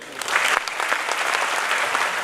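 A crowd at a hasya kavi sammelan comedy poetry gathering in Mumbai claps loudly, a close, dense burst of sustained applause from many hands.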